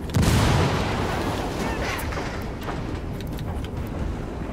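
A heavy explosion in Ghost Recon Wildlands, a loud low boom at the start followed by a sustained rumbling roar and scattered distant crackles, with radio chatter mixed in.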